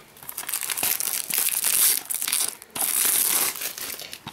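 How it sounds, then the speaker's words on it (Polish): Plastic shrink wrap crinkles and tears as it is peeled off a boxed PC game, The Sims 3, in two sustained bursts of close, loud rustling with a short pause between them. "najpierw zdejmiemy folię, a potem przeczytamy sobie jeszcze, co jest na pudełku"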